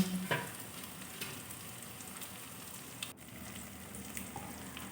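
Chopped tomato and two green chillies dropped into a hot pan, a steady soft frying hiss with a small splash at the start and faint clinks, quiet and close.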